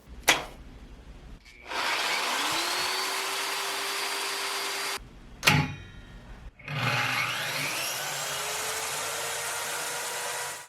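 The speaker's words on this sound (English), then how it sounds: "I tested a circular saw and a sawzall, and this is what it looked like" A circular saw and a reciprocating saw run in turn, powered from a portable power station, each starting with a sharp whir that ramps up and holds a loud steady buzz, with a pause between them.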